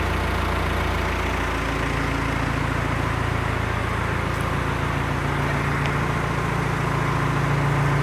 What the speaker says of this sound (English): It's a really good tractor. I love it.